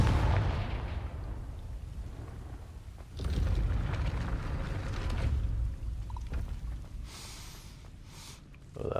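Confringo, an explosive spell cast in Hogwarts Legacy, bursts in a couple of heavy booming blasts with rumbling tails, separated by quieter stretches of ambient game sound.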